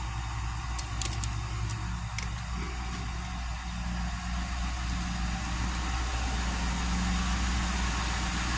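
A car engine idles steadily after its first start-up in a long time, a close, even low rumble with a few light metallic ticks early on.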